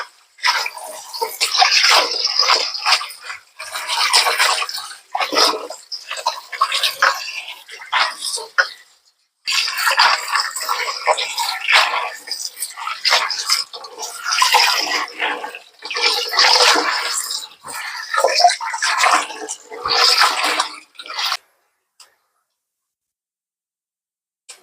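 Running water from a tap splashes steadily over kangkong (water spinach) being washed for sinigang, in near, bursty surges with a brief pause midway, ending in silence.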